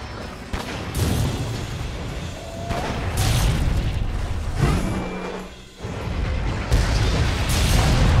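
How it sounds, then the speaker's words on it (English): Gunlance wyvernstake blast in Monster Hunter World: Iceborne, a run of loud booming explosive bursts with rumbling low end, fairly continuous and dense over several seconds, with a brief lull near the middle before the blasts resume. "Then load your slinger ammo into the Gun Lance for an explosive surprise in the form"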